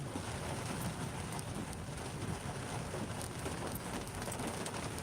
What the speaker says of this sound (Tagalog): Si grabe lakas ang ulan.